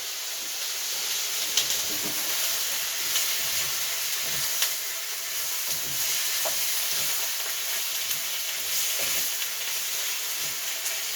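Corn sizzles and fries steadily in a pan with the last of a marinade, a continuous close hiss with occasional small pops and stirring scrapes, no talking.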